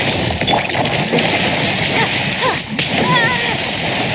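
Water jet skill from Genshin Impact bursting in a steady, dense splashing spray with glassy clinks, loud and continuous throughout, with faint effects layered over it.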